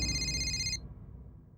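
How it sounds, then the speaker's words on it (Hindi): A phone ringtone plays loudly and close for less than a second as a rapid electronic trill, then cuts off abruptly, leaving faint room noise. "उसी का फोन है।"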